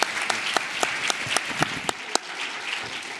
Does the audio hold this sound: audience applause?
yes